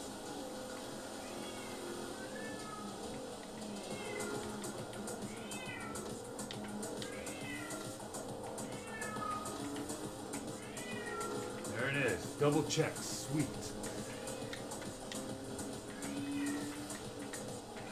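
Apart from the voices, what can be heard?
cat meowing loudly in the background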